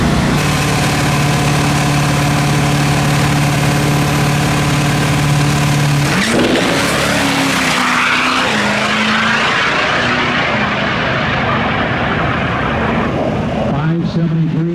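A 2003 GMC truck with an LB7 diesel engine and 4L80E transmission idles loudly at a drag racing event, a steady tonal drone that shifts partway through, with voices heard over it.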